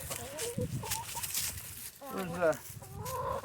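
A molting backyard hen clucks in several short, close bursts, with a longer quavering call in the middle and quiet talk around it.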